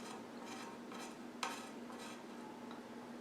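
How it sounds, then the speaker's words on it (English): A metal brush tip scraped against a pan of paraffin wax, giving a faint continuous scratchy rasp with a few sharper scrapes and one brief tap in the middle. "Scrape it against the pan."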